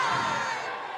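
Live band concert crowd in Calgary, Canada, a dense roar of cheering and shouting voices, loud and steady through a very brief moment.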